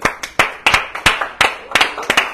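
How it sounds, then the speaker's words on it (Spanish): A church congregation claps in irregular bursts, several sharp hand claps landing in quick uneven succession, close and loud with no talk over them. "un aplauso al Señor"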